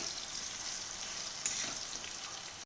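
Steady sizzling of potatoes frying in a pan, a continuous hiss with one brief louder crackle partway through, no voices.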